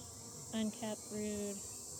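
Honeybees from wild swarms in an open greenhouse hive, a few short buzzing bursts close by and fairly faint, with brief gaps between them over steady background hiss.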